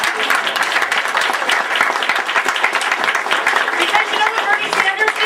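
Sustained audience applause at a Green Party political rally in Glens Falls, New York, dense steady clapping from a crowd filling the whole stretch without a break.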